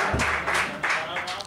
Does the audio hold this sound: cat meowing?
no